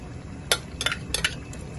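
A metal spoon scrapes and clinks against a pot as pork fat cracklings are stirred into coconut milk, giving a handful of sharp, close taps over a quiet simmering background.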